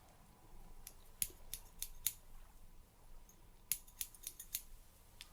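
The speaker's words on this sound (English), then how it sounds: "So I'm just going to gently, ever so gently, trim your eyebrows" Scissors trim a man's eyebrows in a close, very quiet binaural grooming setting, with a string of small crisp snips coming in two clusters and no talk.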